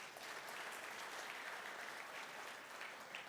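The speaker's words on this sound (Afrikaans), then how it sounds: "So kom klap vir hulle ook aan." A church congregation applauds new members, a steady wash of many hands clapping together at a distance, fairly soft and unbroken for several seconds, with no speech over it.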